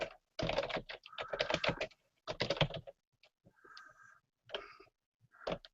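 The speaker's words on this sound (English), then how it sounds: "but I'm just going to type something." Someone types in bursts on a computer keyboard in a quiet room, the clustered keystrokes close and crisp with short gaps between runs.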